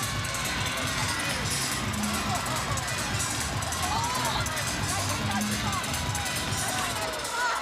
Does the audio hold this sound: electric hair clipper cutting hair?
no